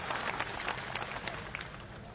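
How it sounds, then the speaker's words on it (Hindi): Crowd applause at an outdoor political by-election rally in Badnawar, a dense, steady wash of many hands clapping that stays loud and continuous throughout without a clear break. "तालियां बजा के उनका स्वागत कीजिए"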